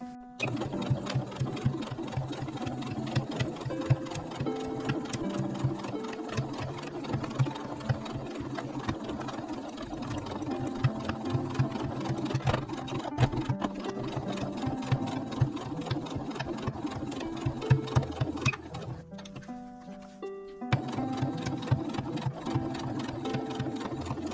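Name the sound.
sewing machine stitching edge of a rug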